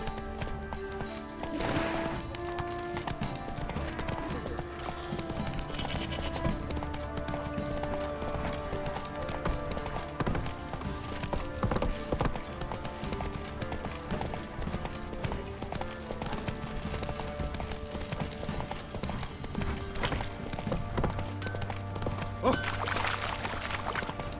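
Horse hooves clip-clop steadily in The Witcher 3, a continuous rhythmic trot over a dense game soundscape of music and ambience, with an occasional snort or whinny.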